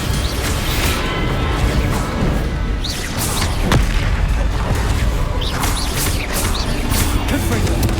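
A Bombarda blasting spell goes off amid busy spell combat in Hogwarts Legacy. One thumping boom stands out against a dense, continuous clatter of magical impacts and effects.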